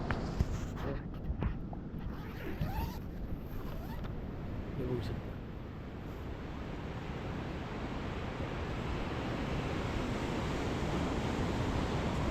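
Sea waves wash onto a beach in Andhra Pradesh beside a campsite, a continuous broad roar of surf with wind buffeting the microphone, steady throughout with no voices.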